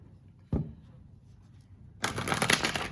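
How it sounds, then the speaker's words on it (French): Oracle cards shuffled by hand: a single soft snap, a quiet pause, then a dense continuous riffling rustle, close and alone with no talking. "On va quand même un peu mélanger le jeu."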